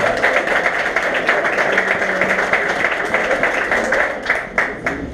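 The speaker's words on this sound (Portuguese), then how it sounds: "mais uma salva de palmas para o uniforme do Uberlândia" A crowd at a football club jersey launch claps steadily for several seconds, a dense patter of applause with a few louder, sharper claps toward the end.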